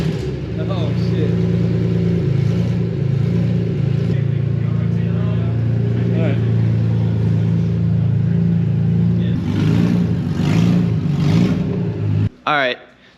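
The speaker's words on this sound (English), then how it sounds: "exhaust just gone. Yeah, open so headers. It's gonna be a little rowdy, but it might sound cool." A BMW E46 M3 with open headers and no exhaust runs loud and close, rumbling steadily with small rev swells for about twelve seconds before cutting off abruptly.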